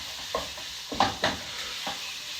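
Stuffed peppers brown in a hot pan, sizzling steadily while a few short scrapes and shuffles from stirring stand out close by.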